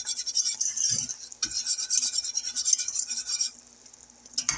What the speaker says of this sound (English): So that's why I constantly stirring it around.